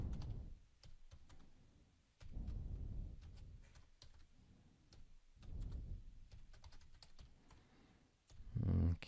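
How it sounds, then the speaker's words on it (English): Close-up keystrokes on a computer keyboard, quick irregular clicks in short bursts with brief pauses, fairly quiet over a low background hum. "I'll just type some names."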